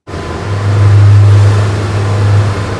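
A Marseille municipal police patrol boat with twin 200-horsepower engines runs with a steady, loud, low engine drone close by, holding a constant pitch throughout with no speech.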